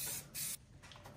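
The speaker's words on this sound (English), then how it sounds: "I painted it with red Rust-Oleum 2X spray paint for the lenses." Two short hissing bursts of Rust-Oleum 2X spray paint from an aerosol can, one brief and one longer, close by with quiet pauses between, used to paint a 3D-printed mask.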